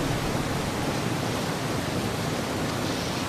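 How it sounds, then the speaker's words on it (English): Steady rushing roar of a waterfall in the video game Half-Life 2, a dense broadband wash of falling water that stays even and close throughout, with no talk over it. "there's some waterfalls"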